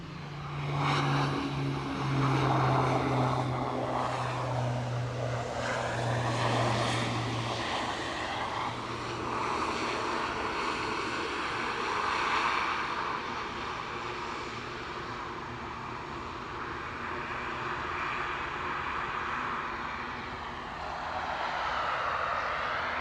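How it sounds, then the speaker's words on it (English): An Eastern Airways Jetstream 41 turboprop arrives at Aberdeen airport, its propeller drone loud and steady and close, with a strong low tone that fades partway through as the engine roar keeps going. "Eastern Airways inbound with a Jetstream 41."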